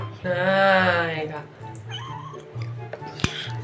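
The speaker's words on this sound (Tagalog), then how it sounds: "Tapos punta tayo din sa pusa namin si Snow guys." A pregnant pet cat meows loudly nearby, one long drawn-out meow followed by a softer, shorter call, over a low steady background hum.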